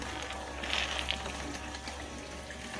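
Water runs steadily into a gold clean-out sluice at a flour gold mill, fed through a pump on a controller; a continuous low gushing and splashing with a mechanical hum underneath, moderately quiet throughout.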